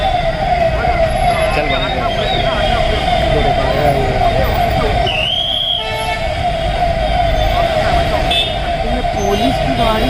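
Police car siren wailing in Chief Minister Eknath Shinde's convoy entering Malegaon, loud and continuous under steady crowd noise and traffic, with people talking close by throughout.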